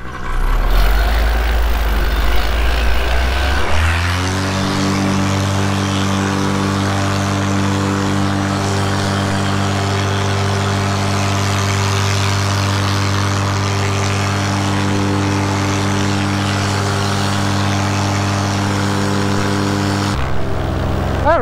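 Paramotor engine driving a labored takeoff under an Apco Lift 2EZ paraglider wing in a crosswind, a loud, steady, close droning roar that rises in pitch early and holds for about twenty seconds before cutting off.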